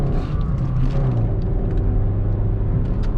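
Honda City 2023 sedan engine accelerating under load, a loud close interior rumble with a rising whine as revs climb, brief and steady.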